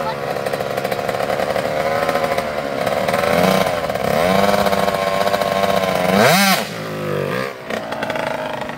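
Dirt bike engine revving hard at high RPM during a wheelie attempt, a loud sustained whine with rising and falling pitch sweeps and a sharp surge near the end, with voices talking underneath.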